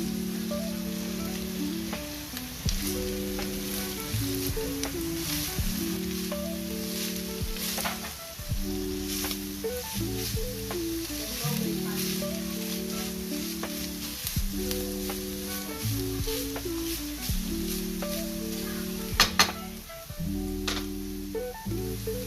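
Garlic and onion sizzle steadily in a small amount of oil in a pan, a continuous close frying hiss with crackles, while tonal background music plays throughout.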